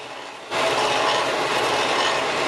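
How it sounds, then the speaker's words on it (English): Oak handle pieces are sanded flat with a steady, close rasping and rubbing sound that starts abruptly and continues without a break. "I sanded them nice and flat so that they would fit together well"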